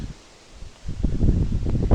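Wind picks up and leaves rustle, starting quiet and swelling into a fuller, gusty rustle over the second half.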